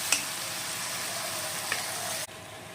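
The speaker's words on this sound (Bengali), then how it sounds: "এবার 3-4 মিনিট ধরে ভালো করে কষে নিতে হবে।" Khichuri ingredients sauté in a hot pan with a dense, even sizzle and a couple of soft stirring scrapes, nearby and unbroken, before the hiss suddenly drops away near the end.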